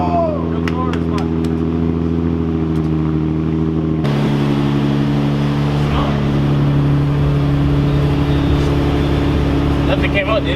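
A Nissan 350Z engine running after a spark plug change, a steady loud idle hum with a slight rise in revs partway through, and people talking over it close by.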